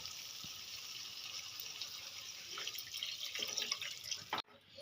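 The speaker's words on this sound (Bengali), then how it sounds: "পরিমাণ মতন জল দিয়েছি এবার আমি ঝোলটা ফোটার জন্য অপেক্ষায় থাকবো" Water poured into a pan of mustard fish curry made with mustard paste and Sitapati fish, giving a steady, close hiss of liquid that swells toward the end before stopping abruptly, with no talking.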